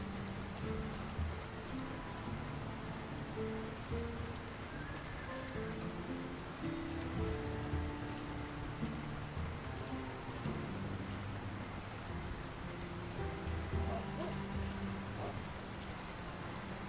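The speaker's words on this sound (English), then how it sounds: "Who can live in a town where it's always raining?" Steady rain falls over the town of Bree in The Lord of the Rings: War in the North, a continuous soft hiss of drops on surfaces with faint low rumbles underneath, no voices.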